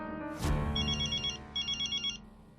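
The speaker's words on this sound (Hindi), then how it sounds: "जेठालाल आज लैंडलाइन से कैसे फोन कर रहा है?" A landline telephone rings in a Hindi television comedy scene: a sharp knock is followed by two bright electronic ring bursts, each a rapid warbling trill, loud and close over a steady background tone.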